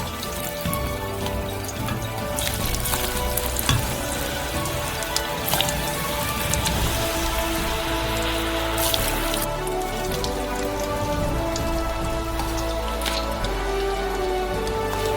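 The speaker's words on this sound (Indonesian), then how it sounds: "Goreng selama 3 menit dan Anda bisa mendapatkan kentang." Dense, steady crackling and sizzling of potatoes deep frying in oil heated to 170 degrees, close and constant with no talk.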